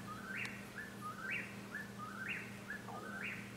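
A whippoorwill singing its repeated three-note call about four times in a steady rhythm, faint and distant over a low background hum outdoors on a homestead.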